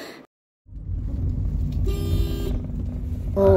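A car pulling away on a trip to Nagapattinam beach, its engine rumbling steadily and close, with a short horn toot near the end.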